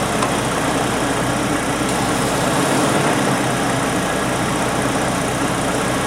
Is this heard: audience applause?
no